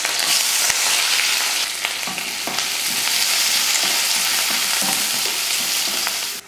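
Onion, green chili and curry leaves, added after mustard seeds and urad dal, sizzle steadily and loudly in hot oil, a dense continuous crackle with occasional stirring scrapes and no voices.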